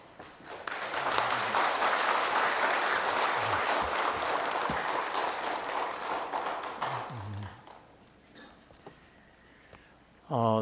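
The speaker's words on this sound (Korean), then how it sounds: "우리 힘찬 박수로 맞으시고." A church congregation at a Sunday worship service gives strong applause to welcome the pastor. The clapping is steady and full for several seconds, then fades to quiet, and a brief voice comes in at the end.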